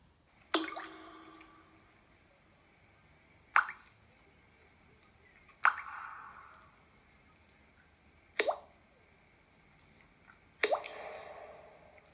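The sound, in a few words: leaky kitchen tap dripping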